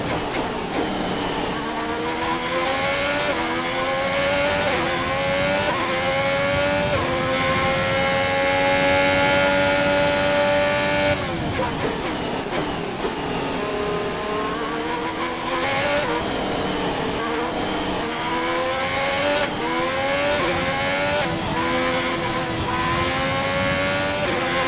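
Formula 1 race cars in the F1 2021 video game scream past on a final lap, high engine notes climbing and dropping through gear shifts, loud and continuous with overlapping cars throughout.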